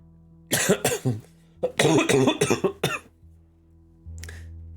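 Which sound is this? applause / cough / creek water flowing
cough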